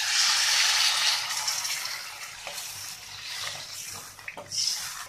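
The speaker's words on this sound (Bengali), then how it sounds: "এখন আমি দিয়ে দেব জল।" Water poured from above into a cooking pot of masala-coated potatoes for Bengali alur dom, a steady hissing splash that gradually tapers off with a few small drips and clinks near the end.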